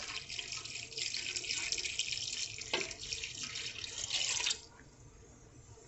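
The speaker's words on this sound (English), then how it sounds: "now I'm going to add about 2 cups of hot water." Water pouring steadily from a tap into a container, a hissing splash that stops abruptly near the end.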